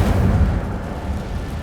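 Fire spell Incendio cast in Hogwarts Legacy on PS5: a loud, low rumbling whoosh of flame that swells at the start and rolls on steadily before easing slightly, with no talk over it.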